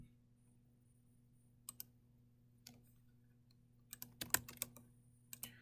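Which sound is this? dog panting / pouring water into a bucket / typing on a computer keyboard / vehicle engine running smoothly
typing on a computer keyboard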